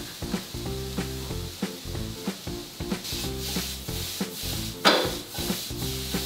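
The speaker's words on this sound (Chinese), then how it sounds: "再来把我们的蒜头、还有辣椒、还有葱下去炒香" Garlic, chili and scallion sizzle and get tossed in a hot wok, with rhythmic scraping strokes of a spatula over a steady crackle, close and fairly loud.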